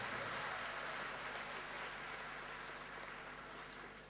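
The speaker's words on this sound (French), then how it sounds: "je voudrais vraiment, à cause de tous les efforts qu'ils ont déployés, qu'on les applaudisse très fort" Crowd applause at a formal gathering for absent guests from Ziguinchor, a steady, dense clapping that stays even and fairly distant throughout, slowly fading at the end.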